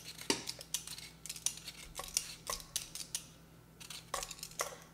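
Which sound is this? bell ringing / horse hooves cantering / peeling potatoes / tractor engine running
peeling potatoes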